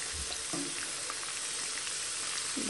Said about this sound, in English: Let's flip the bacon.